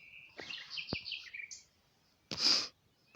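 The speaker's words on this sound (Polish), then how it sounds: "ci ptaszki ci ptaszkują, bo im taki taka aura w ogóle nie przeszkadza w ci ptaszkowaniu" Small birds chirp outdoors in a village setting in short, bright calls, with a brief snort or sniff nearby and a louder breathy burst near the end.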